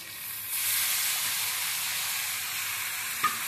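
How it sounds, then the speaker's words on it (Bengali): Salted capsicum frying in a pan, a hissing sizzle that swells sharply after a quiet start and holds steady, with a single spatula tap near the end and no talking. "তো ক্যাপসিকামটা দেখো ফ্রাই হয়ে গেছে।"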